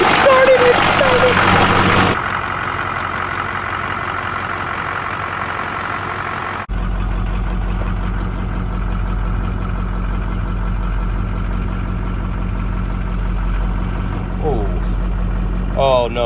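A twin turbo Duramax diesel idles just after its first startup, a steady low rumble that drops in level partway through, with voices talking briefly over it.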